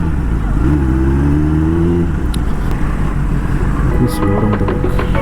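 A Kawasaki ZX10R superbike with a throttle body fault runs loud and close, its engine note rising and then settling into a rough idle, with a voice speaking over it.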